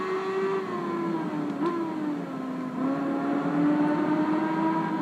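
A GSX-R 1100 motorcycle engine in the PS2 game Tourist Trophy drones at high revs, its pitch dipping and climbing as it shifts, steady and fairly close with no talking.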